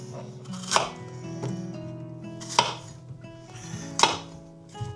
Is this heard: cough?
no